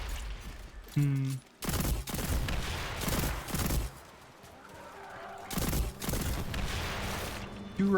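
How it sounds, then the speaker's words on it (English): Heavy video game gunfire from a hand cannon firing two-round bursts, repeated loud bursts, close and booming, with dense crackling reports filling most of the stretch. "Two-round burst hand cannon."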